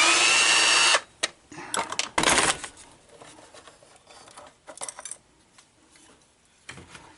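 A power driver whirs briefly, then loosens screws from a 1960s/70s Mercedes-Benz instrument cluster, followed by close, irregular clicks and rattles of screws and small metal parts being handled.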